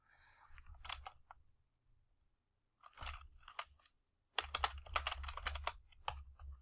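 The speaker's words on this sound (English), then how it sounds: "you can type out a name using the text tool" Quiet bursts of computer keyboard typing, clustered key taps in short runs separated by pauses, close and faint with no talking.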